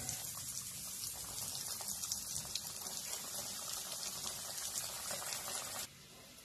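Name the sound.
bhakarwadi deep-frying in oil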